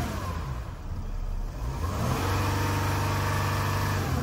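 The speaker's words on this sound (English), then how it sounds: "If we just rev it up" Mercedes C350 engine, diesel particulate pressure sensor fault, revved up from idle: a steady mid-pitched engine note swells into a louder, sustained rev with a rising tone, close and alone without talk.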